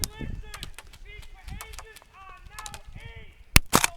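Airsoft gun shots at an outdoor skirmish, two or three sharp cracks near the end after people talk nearby.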